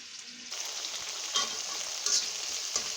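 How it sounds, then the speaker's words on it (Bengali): Onion frying in a pan sends up a bright, steady sizzle that jumps in loudness after a quiet start, with a few sharper stirring knocks and crackles along the way. "এখন আমি পেঁয়াজ একটু ভাজা ভাজা করে নিচ্ছি"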